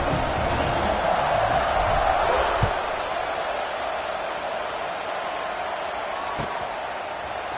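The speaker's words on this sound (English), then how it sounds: "this crowd is buzzing after that last score." A stadium crowd in a college football video game keeps up a broad, steady buzz, noisier at the start and then settling lower, with two brief sharp thuds rising above it.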